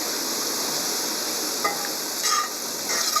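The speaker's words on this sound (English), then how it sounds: "Give your vegetables a quick little stir" Vegetables, including whole mushrooms, stirred briefly in a hot cast iron pan, a soft scrape and clatter of a few strokes over a steady sizzling hiss.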